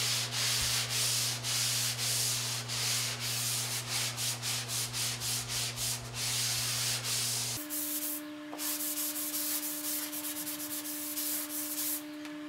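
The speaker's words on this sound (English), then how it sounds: "you've got your outside edges all cleaned up with the square sanding block" Rhythmic, close-up rubbing of a square sanding block across drywall edges, repeated back-and-forth strokes with a steady hum in the background.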